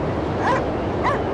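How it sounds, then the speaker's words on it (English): Dog in the video game Cryostasis giving two short whimpering yips about half a second apart over a dull ambient rumble. "And the dog is still there, okay."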